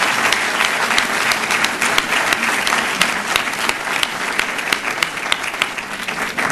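Loud, dense audience applause at a Middle East economic forum, a steady wash of many hands clapping throughout with no break.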